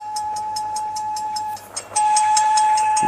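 A Thomas toy train chugs with a steady high electronic tone and rhythmic clicks, pauses briefly, then resumes louder with a shrill whistle-like sound.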